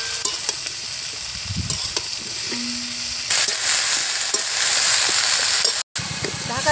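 Pumpkin greens with their stalks, potato and chopped eggplant sizzle and fry steadily in a pan, with a brief pause partway through.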